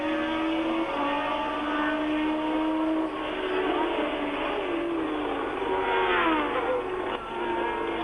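Formula 1 cars race at the 1979 French Grand Prix, high-pitched engines wailing steadily at full speed with pitch sweeps as they pass and shift up through the gears, loud and continuous.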